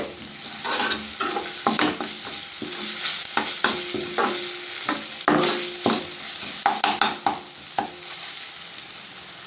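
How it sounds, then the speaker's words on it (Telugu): A spoon of cumin and half a spoon of ginger garlic paste frying in a pan for a restaurant-style chickpea curry, with a busy sizzle broken by frequent scraping, clinking stirring strokes, close and fairly loud, no talk. "ఒక స్పూన్ జీలకర్రని అర స్పూన్ అల్లం వెల్లుల్లి పేస్ట్ పచ్చివాసన పోయే వరకు దూరంగా వేయించుకోవాలి"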